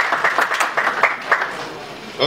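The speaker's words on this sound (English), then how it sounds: "Can you please give a wonderful applause?" Applause from an audience at an entrepreneurship event and foundation launch, a sustained patter of many hands clapping with a voice speaking over it.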